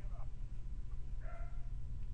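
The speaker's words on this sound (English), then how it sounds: "I think it has to do with the dog in the background." A dog barks a couple of times in the background, faint and distant over a steady low hum in a room.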